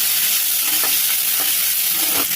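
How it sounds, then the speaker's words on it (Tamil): Onions frying in a pan as they are sautéed toward golden for Tamil mango pachadi, a loud continuous sizzle with a few soft spatula scrapes, close up and alone. "வெங்காயம் நல்லா பொன்னிறமாக வர வரைக்கும் வதக்கலாம்"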